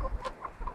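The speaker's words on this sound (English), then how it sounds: "here come the chickens, they're going to peck the phone" Chickens cluck softly nearby in a field in a few short, quiet calls, with no other sounds around them.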